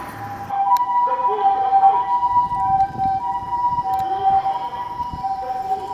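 A steady two-tone ambulance siren wails continuously nearby on a street in Japan, with faint street noise underneath.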